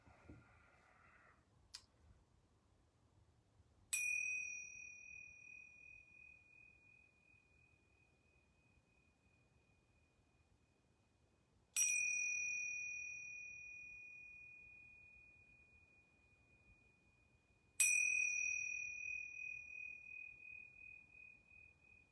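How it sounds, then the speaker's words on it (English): Yoga bells are struck three times during a quiet yoga session, each strike a bright clear ring that decays slowly over several seconds, spaced well apart, with a faint click before the first. "I'm going to ring these yoga bells 3 times."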